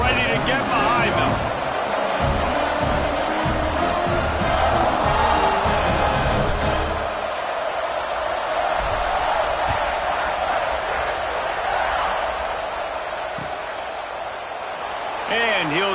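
A stadium crowd at an Ohio State versus Penn State football game roars in a broad, sustained wash around a kickoff, running loud beneath continuous play-by-play commentary.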